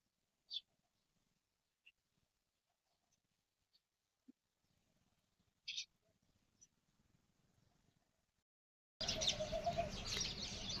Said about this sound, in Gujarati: ચકલા બાજી રહ્યા છે પાછા.